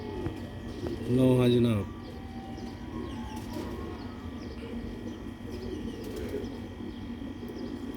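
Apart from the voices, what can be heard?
pigeons cooing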